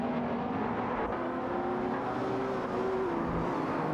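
Simulated race cars, a Chevrolet Corvette C7 GS and a McLaren 540C, a continuous loud engine drone with a rising tonal whine, cars running together at speed throughout.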